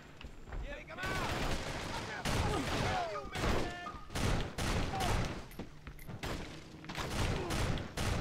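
Shotgun blasts in Urban Chaos: Riot Response ring out repeatedly in an irregular rhythm, each a sharp loud burst, amid constant game noise and chatter.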